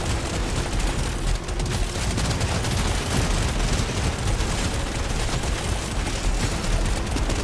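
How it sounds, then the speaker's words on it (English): Fast plasma weapon fire in the video game Deep Rock Galactic: Survivor: a continuous, loud wash of rapid shots and bursts runs unbroken for the whole stretch, dense and close, with no voice over it. "as you can see, the plasma coming into play. It's very fast shooting and it's quite high damage shots."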